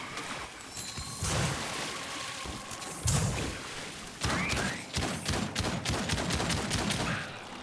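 Gunfire in the Outcast: A New Beginning action adventure, with repeated bursts of close shots and rapid volleys across the clip, loud and crackling, with no talking.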